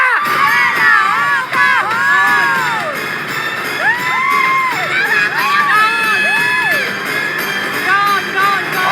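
Game show studio audience on the Pera o Kahon segment of Wil to Win shouting and cheering loudly throughout, a dense crowd roar with excited children's yells and whoops rising and falling in waves.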